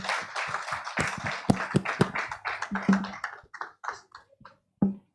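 Scattered applause at a blockchain business conference, a small audience clapping unevenly for a speaker, the claps thinning out and stopping near the end.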